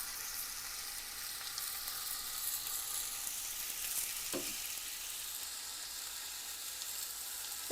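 Chicken sizzles steadily in a skillet, a constant crackling fry with a brief scrape or stir partway through and no talking.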